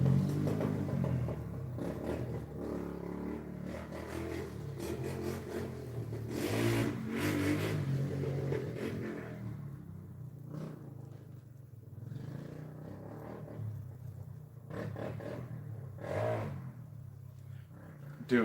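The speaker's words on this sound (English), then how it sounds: "Dude, it's a four-wheeler, not a fucking Harley. Put a muffler on it." A four-wheeler ATV engine with no muffler revs outside, a rough mid-pitched roar that swells and fades in bursts over a long stretch while someone talks over it nearby.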